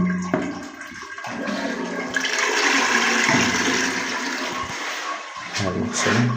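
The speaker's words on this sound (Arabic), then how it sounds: "هاي هي الشطافة حار بارد" A bathroom bidet sprayer with hot and cold water runs in a steady, loud hiss and splash close by, continuing for several seconds with only brief small knocks.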